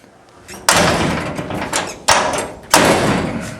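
A hollow Chevrolet Camaro door without rubber seals is shut several times, three sharp metallic slams with ringing decay, loud and close, alone.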